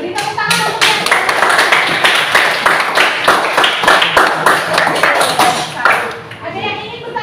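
A group claps steadily in applause for several seconds, dense and close, tapering off near the end.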